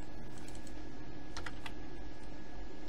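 Typing on a computer keyboard while entering a value into a servo motor simulation program, a quick cluster of keystrokes midway, close and alone over faint background hiss.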